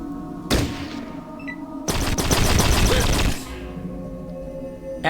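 Turret gunfire in the video game Fallout Tactics: two loud rapid bursts of automatic shots, a short one and then a longer rattling volley, with a few quiet sounds between them.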